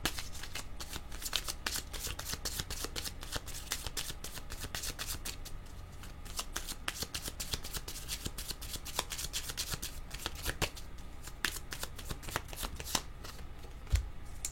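Deck of cards being shuffled continuously near the microphone, a dense, rapid flutter of riffles and slaps that lasts the whole stretch with no talking.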